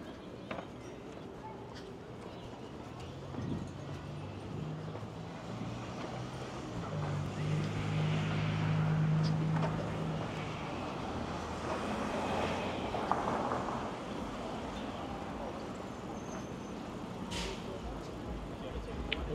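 Wind gusts buffet the microphone on a Toronto city street, a broad rushing roar swelling midway, with traffic hum behind and people talking now and then.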